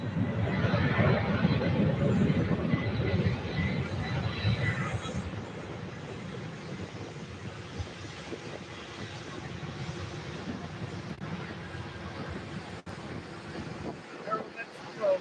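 A Delta Boeing 767 jet takes off at Louisville airport, its engines giving a loud, steady roar heard from a distance, with wind buffeting the microphone throughout.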